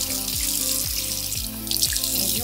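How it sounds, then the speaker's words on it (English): Running tap water splashing into a sink as a toothbrush is rinsed, with a rhythmic, repeating pattern of swishes, close by, no talking. "Rinse your toothbrush off."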